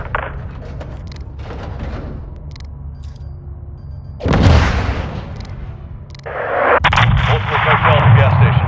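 Heavy gunfire and booming blasts from a Modern Warfare II combat mission near a gas station, loud sustained bursts that surge midway and again toward the end, with radio-style voices talking over the fighting.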